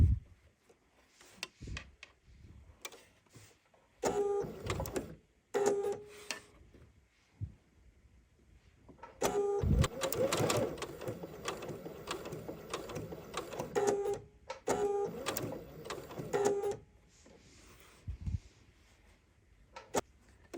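Sewing machine stitching half-square triangle quilt pieces in several short whirring bursts separated by pauses to pivot the fabric, close and fairly quiet.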